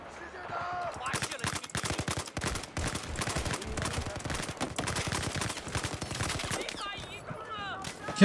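Rapid, loud gunfire rattles through a Battlefield 4 match, with sniper shots among dense bursts that run almost without pause, while a player's voice shouts over the shooting.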